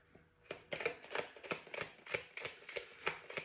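A deck of tarot cards is shuffled close up in quick, rhythmic bursts of papery flicks, quiet and steady, with no talking.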